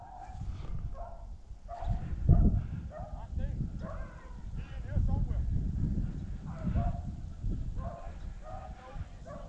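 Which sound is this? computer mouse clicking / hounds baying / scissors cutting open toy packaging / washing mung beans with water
hounds baying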